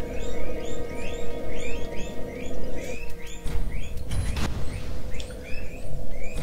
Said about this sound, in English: yeah, that's my guinea pig audience you're hearing.